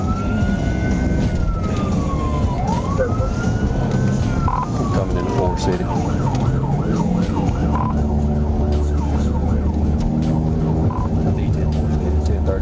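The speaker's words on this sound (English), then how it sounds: "activated his hazard lights and siren" A police car siren wails and yelps through a pursuit heading toward Forest City. Its sweeping tones rise and fall loudly over road and engine noise, and a voice speaks briefly partway through.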